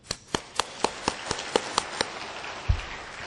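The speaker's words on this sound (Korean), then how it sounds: "박수로 우리 자축 한번 합시다." Evenly spaced, crisp claps from a crowd at the launch ceremony of a civic monitoring group in Busan, beating steadily about four times a second at moderate distance, with one low thump near the end and no talk.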